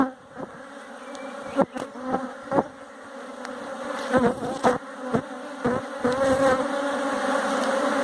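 Honeybees in an open hive during an inspection buzz in a dense, close drone, with individual bees whining past the ear and occasional clunks of hive handling.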